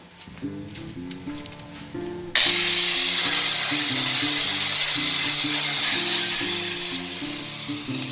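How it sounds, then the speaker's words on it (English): A Grizzly G0883 TIG welder welds 1/8-inch aluminum plate with filler rod. A low rhythmic hum comes first, then the arc starts abruptly into a loud, steady, harsh buzz that lasts to the end. "it's been a pretty good welder. Alrighty, let's try some aluminum."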